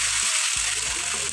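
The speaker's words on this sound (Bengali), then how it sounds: "এখন আদা রসুনগুলো দিয়ে তাকে ভেজে নেওয়া হচ্ছে যেন আদা রসুনের কোনো স্মেলটা না থাকে" Onion, ginger and garlic fry with spices in a pan, a loud constant sizzle with a couple of brief low knocks beneath it.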